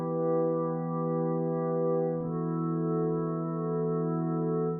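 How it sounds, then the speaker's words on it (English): A sustained pad made from an EBow exciting piano strings, from the Heavyocity Vocalise 3 library, holds steady organ-like harmonic tones with a slight swell and shift near the middle, played alone. "we have really, I think, really beautiful pad with the EBow."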